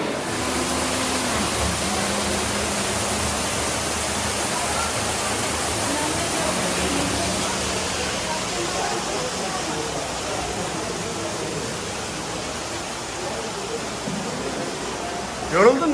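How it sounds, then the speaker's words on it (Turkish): The waterfall at Saklıkent gorge in Fethiye roars as a steady broadband rush of falling water, loud and continuous throughout, with faint voices and a brief knock near the end. "Şelaleyi gördün mü?"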